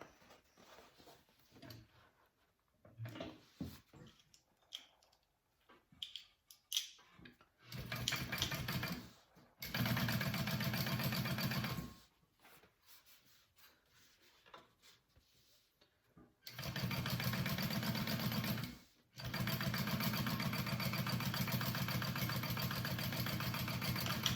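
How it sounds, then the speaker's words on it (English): A sewing machine top stitches a backpack in several bursts: a short run first, then longer steady whirring stretches separated by pauses with handling noise, close and clear, no voices. "And then we're going to top stitch that."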